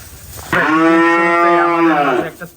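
A single long, loud bovine moo from a heifer at a cattle farm, close by and sustained for about two seconds before trailing off.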